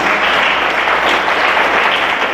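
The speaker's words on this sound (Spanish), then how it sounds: "¿Cuánto le da un aplauso al Señor?" A church congregation breaks into applause during a sermon, a dense, even burst of clapping that holds steady for a couple of seconds, loud and close with no talking.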